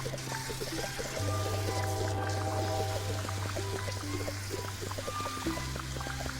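Water pours and trickles steadily in the video game Fresh Start Cleaning Simulator while a puddle is cleaned up, with sustained game tones underneath and no talking.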